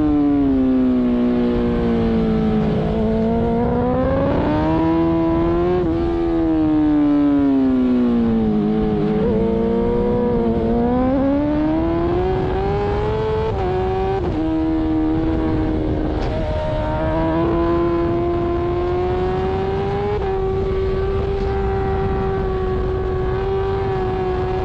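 A racing motorcycle engine on the Chimay road circuit, heard from the rider's position during a race, whining and revving up and down continuously with gear changes, loud and close, no speech.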